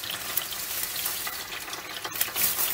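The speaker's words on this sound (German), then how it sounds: "Und das brate ich mir richtig gut an" Pre-seasoned döner meat fries in a waffle iron with a steady, dense crackling sizzle and occasional sharper pops, close and alone without talk.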